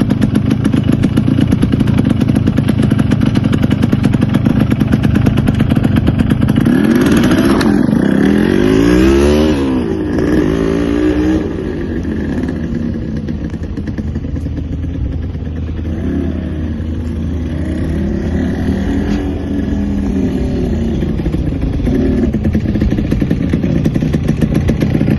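A Yamaha RX two-stroke motorcycle runs without a working clutch, its loud engine droning steadily with a rising rev and gear change midway, then settling back to a rough, buzzing idle.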